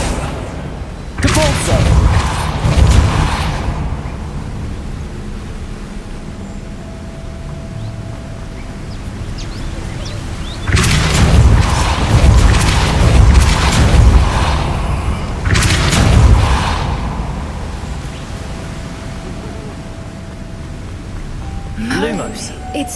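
Spell impacts from Accio and Depulso in the video game Hogwarts Legacy: three loud, booming broadband bursts a few seconds apart, each with a rumbling tail, separated by a quieter ambient bed.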